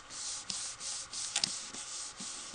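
Paper laid on a large background rubber stamp is rubbed firmly all over by hand, giving a steady papery scrubbing swish in repeated strokes with brief pauses, close and alone with no talk.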